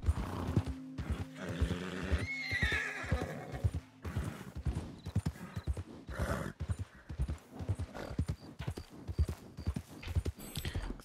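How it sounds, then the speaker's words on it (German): Rhythmic hoofbeats of a galloping horse in the video game Red Dead Redemption II Online, with a loud whinny near the start, the clopping continuing steadily to the end. "blödes Pferd."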